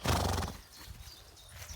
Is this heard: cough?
no